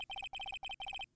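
In the Phoenix Wright video game, an electronic phone ringtone trills in four quick bursts of rapid repeated beeps, bright and steady, with no talking.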